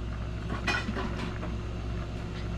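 Flour being whisked into melted butter in a pot, light clinking and scraping of a whisk against the metal pot, close, over a steady background hum.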